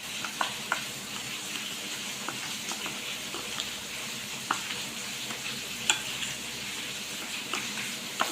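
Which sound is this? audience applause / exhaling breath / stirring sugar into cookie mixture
stirring sugar into cookie mixture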